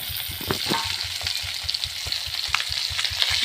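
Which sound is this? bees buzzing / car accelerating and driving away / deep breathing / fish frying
fish frying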